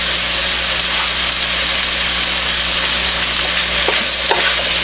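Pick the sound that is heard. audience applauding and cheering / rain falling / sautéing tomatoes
sautéing tomatoes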